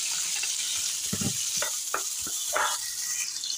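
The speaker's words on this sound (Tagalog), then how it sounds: "I-pan fry muna natin tong shrimp." Shrimp pan-frying in olive oil with butter or margarine, a steady close sizzle with scattered pops and occasional stirring scrapes, no talking.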